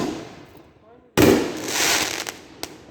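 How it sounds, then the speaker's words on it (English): Two firework mortars launch at once at an outdoor fireworks show, a sharp loud boom followed by a long crackling, hissing rush and a later pop; a voice speaks briefly before the launch. "they set 2 mortars off at the same time"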